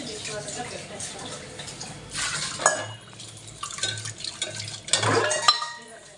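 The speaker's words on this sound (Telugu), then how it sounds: "కడగాల్సిన ఉంటే కడిగేస్తాను, తోమాల్సిన ఉంటే తోమేస్తాను." Dishes are washed by hand under running water before going into a dishwasher: water splashes while pots, plates and cutlery clatter and scrape in bursts at close range, and a voice speaks at times.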